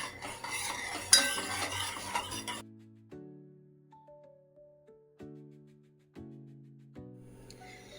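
A spoon stirring salt into a rice papad mixture in a bowl: a few seconds of close scraping and swishing, then quiet, with clear ringing tones sounding one after another.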